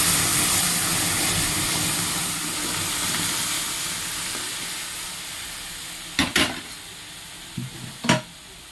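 Boiled lentils poured into a pan of fried onion, garlic, dried red chili and black cumin: a steady loud sizzling hiss that gradually softens, followed by a few short clanking knocks near the end.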